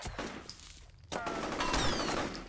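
A shotgun fires in the first-person shooter F.E.A.R., with a couple of loud, close blasts and rattling debris over a brief, busy stretch of combat noise.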